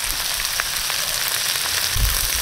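Crab sautéing in a hot pan makes a constant, even sizzle up close, with faint stirring ticks and a soft low bump near the end, and no one speaking.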